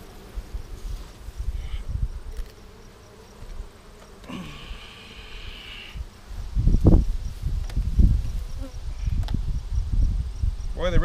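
Honeybees buzz in an open hive being treated with Formic Pro, a brief droning hum mid-clip over handling knocks and rustling close by.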